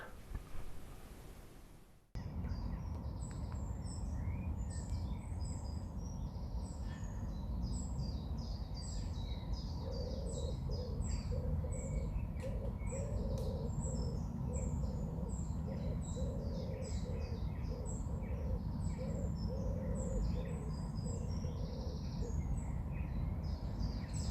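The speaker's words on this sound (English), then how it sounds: "So have a little bit of bird song." Birds chirping and singing in scattered bursts at a narrow gauge light railway, over a steady low rumble of background noise, fairly distant, with no talking.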